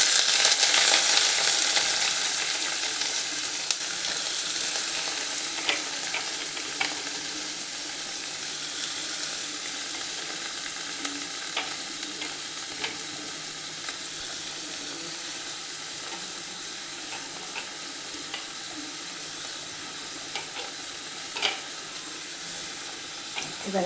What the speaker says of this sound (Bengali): দেখুন, তেলটা গরম হয়ে গেছে, আমি পেঁয়াজটা দিয়ে দিচ্ছি।